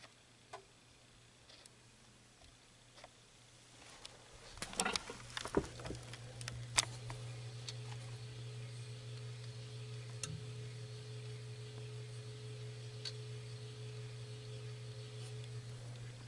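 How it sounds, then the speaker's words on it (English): A 1991 Canarm P-36 fan spinning with an intermittent rattling tick, faint at first, then a busier burst of clicks as it runs on with a steady low hum underneath, no voices. "rattling sound all the time, like as soon as it started spinning"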